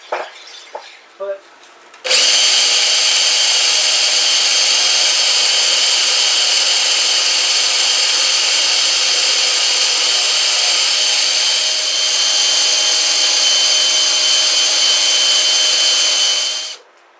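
A Boice Crane bandsaw converted by a jackshaft runs loud and steady while cutting a piece of wood, its whine starting abruptly after a few faint knocks, holding for about fifteen seconds, then stopping.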